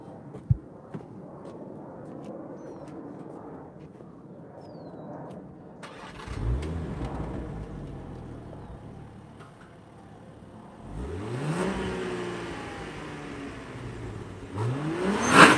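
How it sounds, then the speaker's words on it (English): A 2021 Range Rover P400 HSE Westminster Edition engine cranks and fires up close by, then revs rise and fall in two swells before settling, with faint talk around it. "let me start it up so we can show some of the interior stuff"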